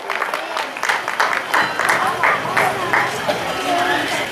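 An audience at a Hindi poetry gathering (kavi sammelan) claps in a ragged, patchy burst with audible individual claps, while voices talk over it throughout.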